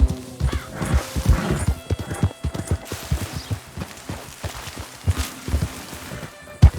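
Horse hooves clip-clop in a fast, steady rhythm across open ground in the Western game Red Dead Redemption 2, with occasional snorts and creaking tack, loud and close throughout.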